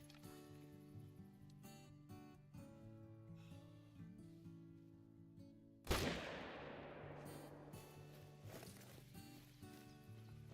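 A single sharp rifle shot rings out at a blue wildebeest in the theHunter: Call of the Wild hunting game, a sudden crack that decays into a long echo over a quiet outdoor ambience.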